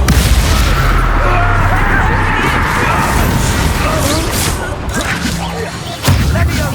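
A Confringo spell blast goes off during a Hogwarts Legacy battle in a goblin mine, a dense rumbling boom with crackling debris. Voices shout over the noise, and a sharp second burst lands near the end.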